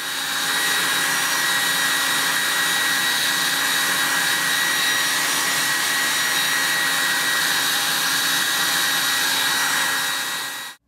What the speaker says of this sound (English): I was very short on time and impatient, so I took out the blow dryer.